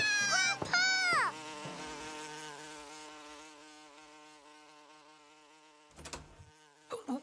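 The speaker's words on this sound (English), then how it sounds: "A bee chased us into the house!" Cartoon bee buzzing from a black and yellow striped bee in a kids' cartoon: a loud, wavering buzz at the start that fades into a sustained hum, with brief sharp bursts near the end.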